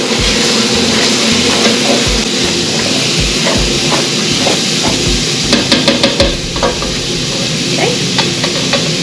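Finely chopped carrot and celery sizzle in a hot pot while being stirred, with a loud, continuous frying hiss and scraping thumps of the spoon close by. No one speaks.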